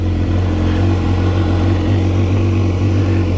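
A 2014 BMW S1000R motorcycle on its stock exhaust idles and revs close by, giving a steady, loud engine drone with a strong low hum throughout and no voices.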